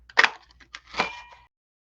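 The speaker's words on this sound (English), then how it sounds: "Okay, so I'm just going to punch all of these out." A paper punch cutting out paper flower shapes, two sharp, close clacks about three quarters of a second apart, followed by silence.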